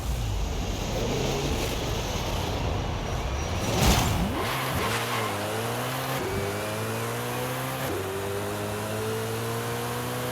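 Drag car in Forza Horizon 5 launching down a quarter mile, engine revving up through rising gear sweeps with shifts and a fading whoosh, loud and continuous.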